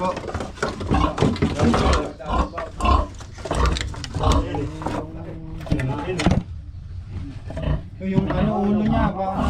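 A pig grunts and squeals loudly in irregular bursts at close range, with people talking over and between the sounds.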